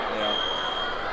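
A school gym fire alarm sounds as a steady, piercing electronic tone, loud and continuous throughout, with crowd noise beneath it during a high school basketball game.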